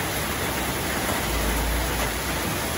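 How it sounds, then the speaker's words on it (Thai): Heavy rain pours over an evening fresh market in Surin, Thailand, during a storm, making a dense, unbroken hiss with a low rumble beneath, steady throughout and with no talk. "ฝนตกหนักมากครับ"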